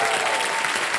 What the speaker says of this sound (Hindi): क्या बात है, तालियां बज जाए इनके लिए